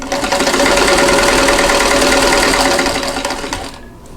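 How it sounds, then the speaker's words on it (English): Sewing machine running steadily as quilt block units for a Kansas Star quilt are stitched together, a close, continuous mechanical whir and hum lasting several seconds before slowing and stopping near the end. "then we'll sew these two units together"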